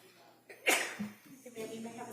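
A single sharp sneeze in a courtroom, followed by brief quiet speech nearby.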